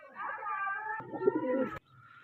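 Pigeons coo in soft, throaty rolling calls, a steady murmur of several birds close by, with a brief rustle near the end.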